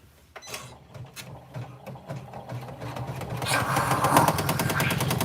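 A sewing machine top stitching a fabric bag, its mechanical whir starting softly and building into a steady, louder rapid stitching buzz toward the end.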